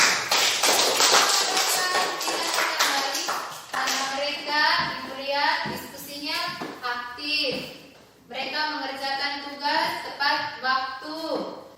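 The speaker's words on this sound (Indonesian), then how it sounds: "Mari kita memberikan tepuk tangan untuk kelompok Dahlia" Children in a classroom clap together in a long, steady patter of rapid, dense claps, with a brief pause partway through, while voices speak over it.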